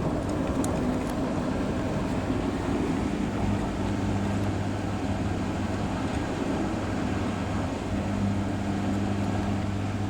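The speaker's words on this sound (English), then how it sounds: "now Blomberg is draining from first rinse" A Blomberg LWF194520QW washing machine drains after its first rinse on a Cottons 60 Speedperfect cycle, giving a steady low pump hum with water rushing, continuous and fairly loud throughout, with no talk.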